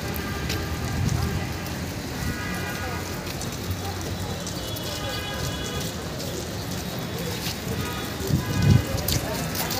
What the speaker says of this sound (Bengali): বৃষ্টি, অনেক বৃষ্টি না বাবা? দেখছো কিরকম বৃষ্টি?